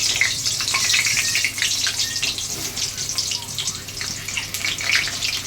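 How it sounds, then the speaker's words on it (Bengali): Whole small potatoes, slit down the middle, fry in hot oil for a goat curry, giving a steady close sizzle and crackle with no talking. "আমি তেল বসিয়ে দিয়েছি, আমি আলুগুলো ভেজে দিচ্ছি"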